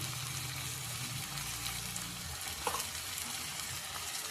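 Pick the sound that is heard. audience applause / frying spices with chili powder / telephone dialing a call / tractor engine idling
frying spices with chili powder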